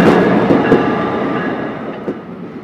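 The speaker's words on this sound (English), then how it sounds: "time to take a nice hour and a half train ride to the city" Steady low rumble of a moving train, with faint rhythmic clacks over the rails and a constant hum throughout.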